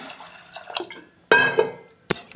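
Soft splashing and dripping as lentils for pongal are swished and rinsed in water, with a brief louder slosh midway; no talking.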